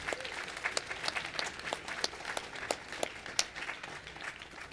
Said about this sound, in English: Please give these people a round of applause for their support